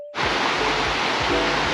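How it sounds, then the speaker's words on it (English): Water rushing from a river or waterfall near a hiking trail up to falls in Yoho National Park, heard as a steady, loud broadband roar that starts abruptly after a brief quiet moment and continues unbroken. "I can hear water running like over that way"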